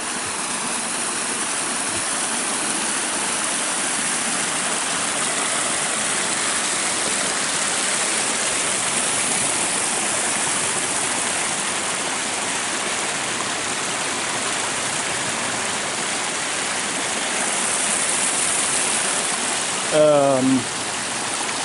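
Water rushes steadily along a mountain stream, a constant close broadband wash lasting throughout, with a brief voice breaking in near the end.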